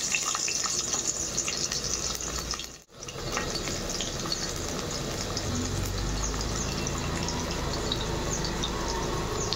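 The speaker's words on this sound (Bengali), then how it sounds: "কড়াই গরম হয়ে দিচ্ছি, রসুনটা দিয়ে দিচ্ছি" Garlic goes into a hot wok (kadai) and fries with a continuous crackling sizzle, briefly dropping out for a moment before resuming steady and close, with no voices.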